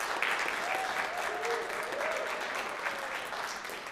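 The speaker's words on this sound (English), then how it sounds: "Let's give the kids one more big round of applause." Audience at a children's recital giving a big round of applause, a soft, steady wash of clapping heard from a distance with a few faint voices and whistles rising through it.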